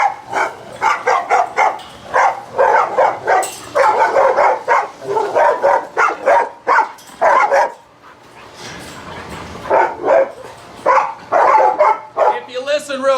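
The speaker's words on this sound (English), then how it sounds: "Real close, you can hear dogs barking." Several dogs bark repeatedly and loudly close by at a house undergoing siding and fascia repair, the barking overlapping and continuing in rapid bursts throughout.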